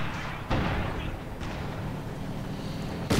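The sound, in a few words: artillery bombardment from SU-76 in Company of Heroes 2 video game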